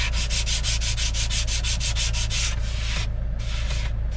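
A wooden worktop for a van is sanded in steady, fast back-and-forth strokes, loud and close. The rasping pulses rhythmically, then turns to a smoother continuous sanding noise, with no voice.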